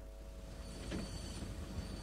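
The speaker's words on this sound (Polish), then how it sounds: "Pociąg staje." A train slowing to a stop in The Walking Dead video game, a low steady rumble with faint metallic squeal and rattle, fairly quiet and without voices.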